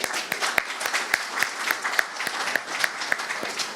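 Conference audience applauding presenters and poster authors on the third day of an SQA conference, a steady patter of clapping with sharper individual claps standing out, moderately loud and without speech.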